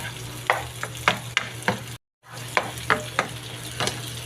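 Tomatoes and other ingredients for ginisang munggo, a mung bean dish, sauté in a pan. A steady sizzle runs under sharp, regular scrapes of stirring about every half second. There is one brief break in the middle.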